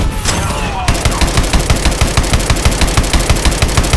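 Machine gun fire in the game Call of Duty Advanced Warfare: after a brief whoosh, a rapid, evenly spaced stream of loud, close shots runs continuously to the end.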